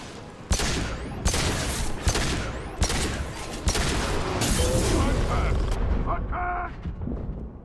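Pistol fire in Mass Effect 2 combat, a series of sharp, loud shots spaced roughly half a second to a second apart over a dense battle din, ending in electronic tones.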